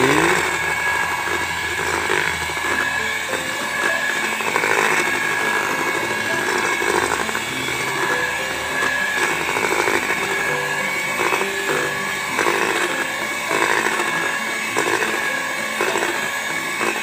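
A JADAM wetting agent mixture is stirred with a loud, continuous motorized whir that holds a fairly even pitch for the full stretch, with faint irregular churning beneath it.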